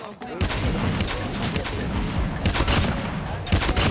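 Bursts of automatic gunfire from a Call of Duty Mobile match rattle loudly in quick volleys, pausing briefly before resuming, with voices chattering underneath.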